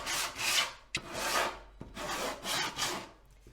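Rough pine boards scuffed by hand across the grain ahead of painting: three long rasping strokes of abrasive on wood, close and fairly loud, separated by short knocks.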